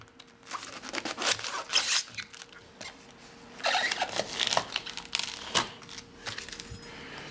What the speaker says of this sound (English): So now I'm just going to cut the artichoke in half.